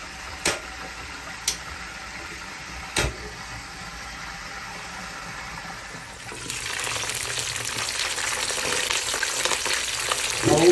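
Milkfish fries in a pan of oil, simmering in fermented black beans, with a steady close sizzle and a few sharp crackles and pops early on; the frying grows louder and fuller partway through.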